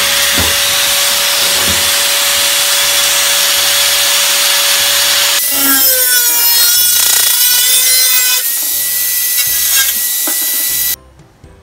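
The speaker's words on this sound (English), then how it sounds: "we need to cut the cable trunk by using grinder" Angle grinder cutting through a metal cable trunk, a loud continuous harsh grinding whine that shifts pitch midway as the cut progresses, then cuts off near the end, with no one talking.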